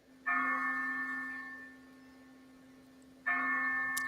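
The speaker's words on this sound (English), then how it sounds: "why do I hear a gong?" A gong struck twice, about three seconds apart, each hit a bright metallic clang with a long humming ring that fades slowly; moderately loud, no voices.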